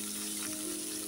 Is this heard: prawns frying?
yes